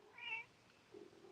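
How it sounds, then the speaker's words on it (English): A house cat gives a short, faint meow followed by a softer, lower second call, both brief and close in a quiet room. "Oh, that's Kitty"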